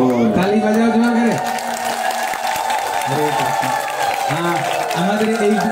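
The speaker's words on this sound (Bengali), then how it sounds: "তালি বাজাও জোরে করে।" At a Bhagavat katha religious gathering in Islampur, West Bengal, an audience claps steadily and loudly, with a crowd murmuring and a voice talking over the clapping throughout.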